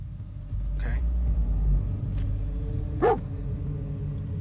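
Dogmeat, the dog companion in the video game Fallout 4, gives a couple of short barks over a low ambient rumble, with a voice talking at times.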